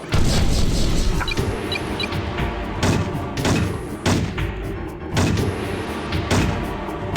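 Enemy gear destroyed in the Heavy Gear video game, a run of heavy booming explosions and thudding impacts, loud and rhythmic, repeating roughly every second over dense rumbling battle noise.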